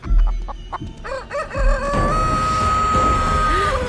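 A giant rooster in Bình Dương gives a few short clucks, then a loud, sustained crow nearby, standing alone with no voices over it.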